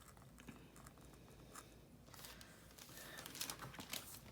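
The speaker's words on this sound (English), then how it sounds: "just very carefully using the craft knife to cut out" A craft knife cuts slowly around a paper template. The scratchy scraping and crinkling is faint and close, with light irregular bursts that grow a little busier toward the end. No voices are heard.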